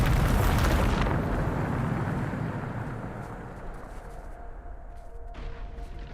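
A Bombarda spell in Hogwarts Legacy detonates with a loud, deep boom that opens with a burst and fades gradually into a rumbling tail, leaving a quieter echoing rustle.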